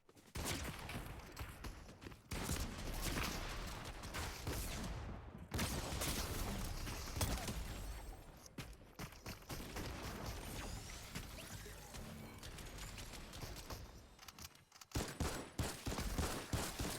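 Video game gunfire, sustained dense bursts of shots and explosive crackle filling the scene nearly throughout, loud and continuous with brief gaps.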